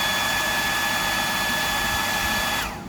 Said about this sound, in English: what I'm doing now is just drying it with a hairdryer, just to speed it up